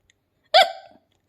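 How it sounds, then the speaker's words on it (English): A single sharp hiccup from a girl, close and clear, with a short voiced trail after it in an otherwise silent room. "Her hiccups were still there."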